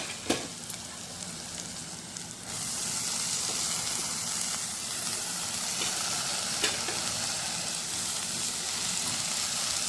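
Dill leaves, just added to a pan, stir-fry with a steady close sizzle that swells after a couple of seconds, with a few sharp clicks of a spatula against the metal.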